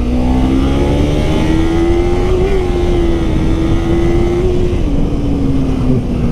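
A 300 motorcycle engine runs steadily under load while being ridden, its tone rising and settling in a sustained, loud drone with slight pitch swells throughout.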